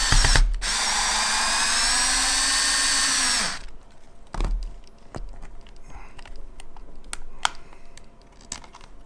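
A Ryobi power tool whirs loudly and continuously for several seconds while driving screws into a single-gang electrical box, then cuts out, leaving scattered clicks and handling taps.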